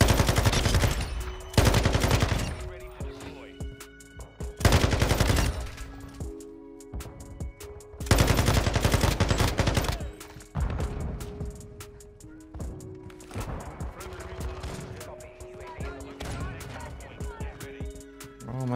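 Bursts of machine gun fire from a Sakin MG38 in Call of Duty: Modern Warfare II, loud close volleys separated by brief pauses, with scattered quieter shots and game sounds between them.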